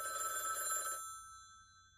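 A telephone bell rings in one continuous, loud electronic trill for about a second, then cuts off and leaves a fading tail and near silence.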